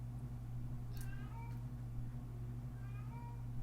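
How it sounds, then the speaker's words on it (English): A house cat cries from outside a closed room, a few drawn-out meows at a distance over a steady low hum from a ceiling fan. "you're probably going to hear my cat crying in the background because she's not allowed in the room right now"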